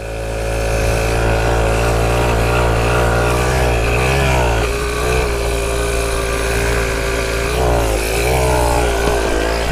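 A pocket bike's small engine drones steadily and loudly through a field ride, its pitch rising and falling with throttle changes over the whole stretch.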